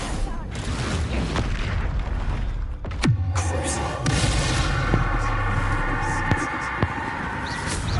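Booming blasts and crackling fire from the Confringo spell in Hogwarts Legacy ring out over a steady game backdrop, with sharp impacts and a low rumbling explosion near the middle and a voice speaking at times.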